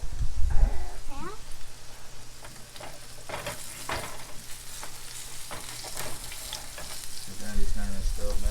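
Meatballs dropped one by one into hot oil in a pan, a continuous sizzle and crackle with clatter of placing, as people talk intermittently nearby.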